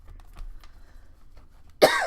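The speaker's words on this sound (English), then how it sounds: "I just think there's no wonder I keep coughing and hacking." A woman coughs once, loud and close, in a burst of harsh hacking noise after a stretch of quiet room sound with faint taps, indoors on a windy day.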